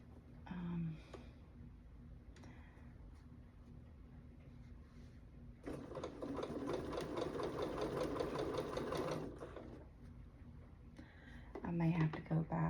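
A sewing machine stitches a quilt seam with a steady rapid mechanical chatter for several seconds, framed by short bursts at the start and end, while a person talks quietly nearby.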